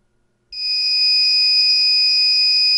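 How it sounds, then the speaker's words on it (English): A MedReady medication pill dispenser alarm starts abruptly after a brief silence and holds a loud, steady, high-pitched electronic beeping tone that continues unbroken to the end. "MedReady's powerful alarm will be activated when it's medication time"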